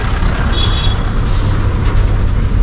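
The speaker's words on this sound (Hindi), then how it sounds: "एक कुरियर का आ रहा है" A courier logistics truck stopping on a roadside in India, with a loud steady engine rumble and a brief hiss of air brakes, heard close by with no talk.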